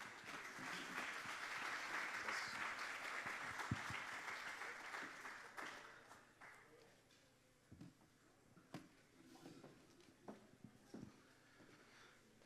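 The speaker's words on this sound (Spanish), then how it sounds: "Vamos a dar un aplauso al doctor." An audience at a mental health training course in Jalisco applauds a doctor, dense clapping that fills the room for several seconds, then thins into scattered individual claps before fading out.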